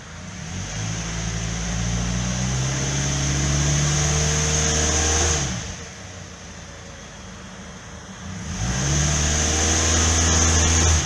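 A 2009 Pontiac Vibe showing a cylinder 4 misfire code revs in drive against the held brake. Its loud steady engine drone dips for a few seconds, then rises back to the same strained hum.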